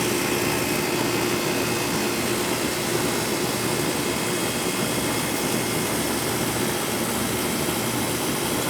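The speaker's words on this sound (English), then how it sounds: "Yeah, compressor started." An old Magic Chef air conditioner compressor runs steadily nearby, a constant droning hum under a broad whooshing fan noise, unchanging and with no talking.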